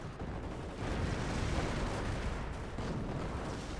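A registered artillery barrage in the Company of Heroes game, heard as a steady, dense roar of rumbling explosions and blasts that stays loud throughout.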